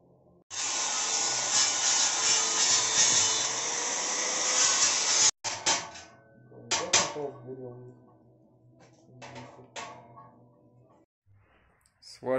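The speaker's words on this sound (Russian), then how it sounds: "Начали варить углы." Steel corners of a tool cart frame are welded, giving a long steady crackling hiss, then several shorter sputtering bursts separated by pauses.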